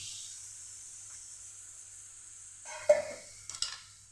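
A quiet hiss from ghee heating in a kadhai suddenly rises into a brief burst of sizzling and spluttering as sapodilla is tipped in, followed by a few short sizzling flares.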